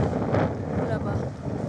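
Strong gusting wind roars across the mic in a high Ladakh valley corridor, a steady broadband rush that swells and buffets for under two seconds with no voices.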